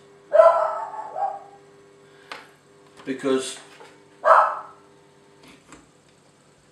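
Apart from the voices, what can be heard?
dog barking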